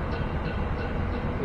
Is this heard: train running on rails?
yes